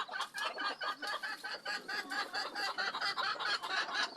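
Pet pigeons in a loft, a busy chorus of repeated throaty coos and flutters at close range, fairly faint, with no talking.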